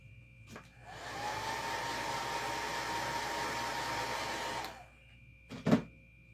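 A dryer blows steadily for about three and a half seconds to dry a craft design, starting and stopping abruptly, with brief clicks and a small knock at the end.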